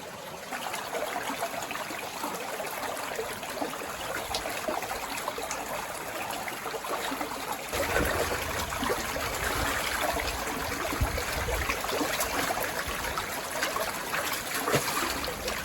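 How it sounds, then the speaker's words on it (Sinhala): A small stream in the Dolosbage hills flows beneath a rock slab, giving a continuous close trickling and gurgling wash of water that grows slightly fuller midway, with no voices. "මේ ඇල ගලන්නේ මේ ගල් පතුරට යටින්."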